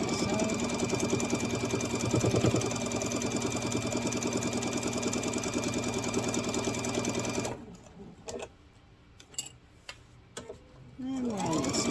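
A sewing machine stitches the fabric seams of a grocery bag with a rapid, continuous mechanical whirring that stops after about seven seconds. Brief handling clicks and rustles follow, then the machine starts up again.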